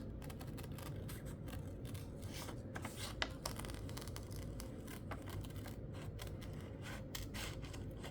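Scissors cutting out paper for a homemade window envelope, quiet continuous snipping and rustling close by, with a few sharper clicks along the way.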